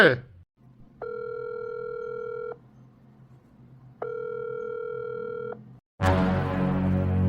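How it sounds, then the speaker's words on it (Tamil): A telephone rings repeatedly with two long steady electronic tones separated by a pause, clear and close, followed by an abrupt burst of other noise at the end. "பாஸ் வேற போன் அடிச்சுக்கிட்டே இருக்காரு"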